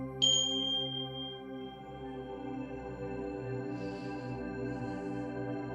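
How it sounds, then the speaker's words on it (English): A clear metallic bell strike rings out, followed by long sustaining, shimmering overtones that hum steadily, with a faint second chime later. "Just bringing in the Tibetan bells now."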